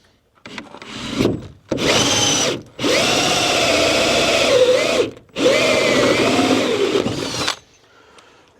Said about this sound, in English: then we got a pilot hole from the other side, so we can just drill out the other side